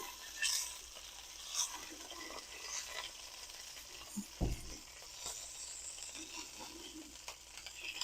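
Chesapeake salmon cakes sizzle and crackle quietly in a hot pan, a soft steady fry with scattered pops and one brief louder clatter, nobody talking.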